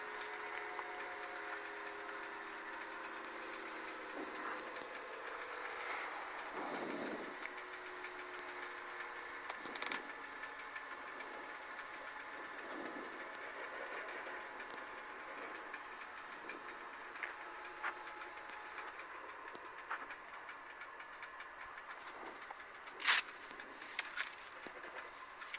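A Robinson R22 helicopter's engine and rotor wind down after a flight, a steady mechanical drone with sliding tones and occasional clicks, heard close and continuous without speech.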